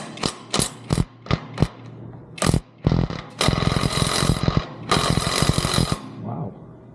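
A ratchet wrench works loose seriously tight bolts on a Branson 2515H tractor, with sharp separate clacks first, then a dense run of rapid ratcheting, close up and without speech.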